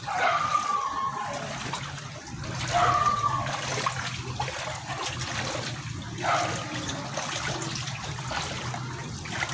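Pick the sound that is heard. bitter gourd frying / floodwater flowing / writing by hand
floodwater flowing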